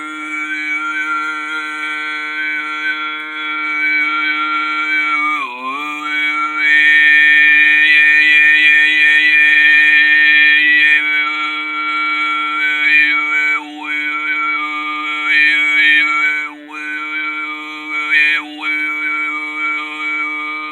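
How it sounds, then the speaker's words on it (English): Hoomei Tuvan throat singing on a lower note: a sustained, loud, buzzing drone with a steady low fundamental and whistling overtones that shift and dip, held alone for about twenty seconds. "if you do Hoomei, it would sound like something like this."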